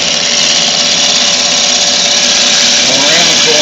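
A woodturning gouge rough turns a workpiece on a lathe, producing a loud, steady, close scraping and cutting roar over the motor's hum that continues without a break.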